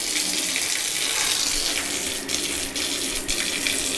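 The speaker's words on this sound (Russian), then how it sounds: "Вот, сейчас мы горячую воду включим." Hot water from a wood-fired water heater in a bathhouse gushes steadily from a shower under good pressure, a loud continuous hiss with a few brief dips.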